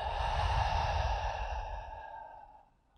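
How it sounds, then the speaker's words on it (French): One slow, deep breath during a Hatha Yoga session: a soft airy inhale through the nose flows into a long, full exhale through the mouth that gradually fades out, close and alone. "on va inspirer profondément par le nez et puis expirer en vidant complètement par la bouche"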